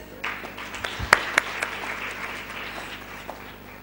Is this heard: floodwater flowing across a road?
no